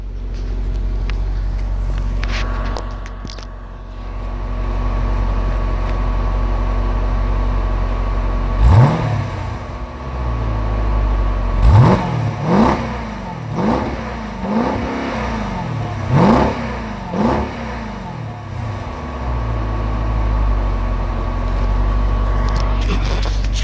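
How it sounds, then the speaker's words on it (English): A 2017 Jeep Grand Cherokee SRT sits idling, then its engine is revved several times in a row, each blip rising and falling as the exhaust note swells close and loud before settling back to idle. "Let me get you the exhaust note here."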